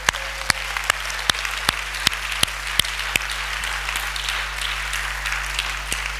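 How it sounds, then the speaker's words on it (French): Church congregation clapping together during a Sunday worship service, a steady run of sharp, evenly spaced claps over a soft crowd murmur, moderately near. "Oh, acclamons le Saint-Esprit."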